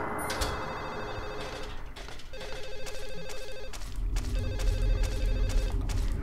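An old-style telephone bell rings in repeated bursts inside Silent Hill 4: The Room, each ring clear and moderately loud against a low, murky rumble, with no talking.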